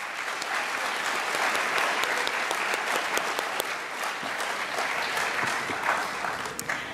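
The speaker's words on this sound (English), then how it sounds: "So let's give them another round of applause." A school audience applauds candidates at an awards ceremony at Buffalo High School, WV: a steady, full round of clapping from many hands, sustained and even throughout with no talk over it.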